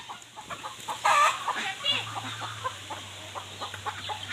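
Chickens and ducks on a rural farm, a few scattered clucks close by over a steady low hum, with faint voices in the background.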